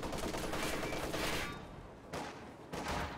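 MG-34 machine guns in a World War II strategy video game, dense overlapping bursts of automatic fire with a short lull before another burst resumes.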